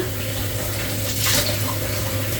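Water is sprayed onto a tray of whole-grain bran bread dough before it goes into the oven, a close, hissing spray that swells briefly in the middle, with no talking.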